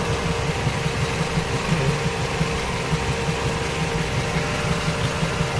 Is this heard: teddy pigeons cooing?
no